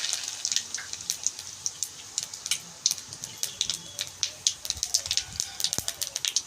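Bay leaves dropped into hot oil already tempering whole cumin seeds, giving a steady close crackle of many sharp sputtering pops that runs throughout.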